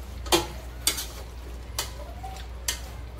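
Chicken being stirred in a cooking pot, with four distinct scraping clinks of a spoon against the metal at uneven intervals over a faint low hum.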